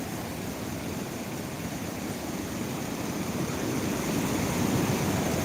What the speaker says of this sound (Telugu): మంచి వేగంతో వస్తున్నాయి